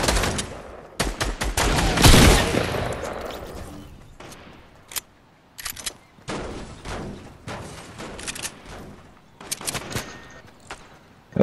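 Dense bursts of automatic gunfire and single shots from a Fortnite Chapter 2 squad match crackle close and loud, with rapid volleys, brief pauses and a heavy blast near the start.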